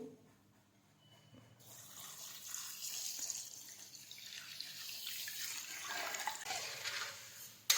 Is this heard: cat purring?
no